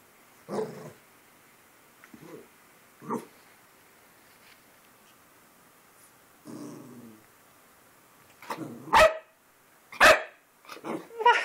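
A puppy barks at its own reflection in a mirror, giving short separate yips and growly barks spread apart by quiet gaps, turning louder and more frequent toward the end.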